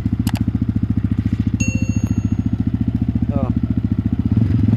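A Yamaha WR155R motorcycle with its stock exhaust runs close by with a loud, rapid, steady engine pulse that rises slightly near the end, while bright metallic dings and a short voice sound come in over it.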